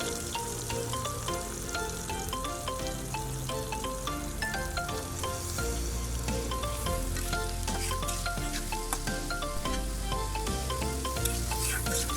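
Chopped onions frying in hot oil for beresta, a continuous close sizzle with occasional stirring; a tonal music bed runs underneath throughout and no one talks.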